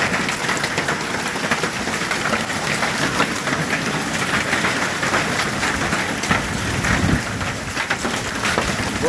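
A severe hailstorm pounds down in a continuous, dense clatter of impacts, loud and close, building slightly in intensity with no voices.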